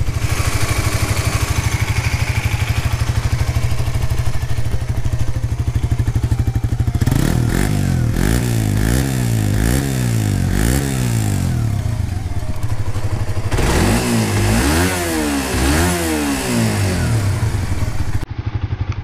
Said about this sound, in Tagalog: I hope na naririnig nyo yung makina.